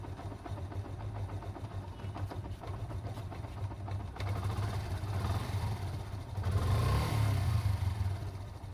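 A quiet motorcycle running nearby with a light, steady mechanical whirr from its freshly lubricated chain, rising slightly toward the end, no talking.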